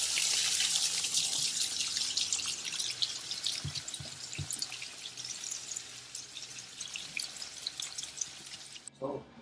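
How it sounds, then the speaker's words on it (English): Running tap water steadily streams and splashes over rice being washed in a kitchen sink, with occasional louder clatter and swish of grains and pot, close and continuous until the flow cuts off near the end. "I'm gonna wash the rice here a little bit just to take out the starch"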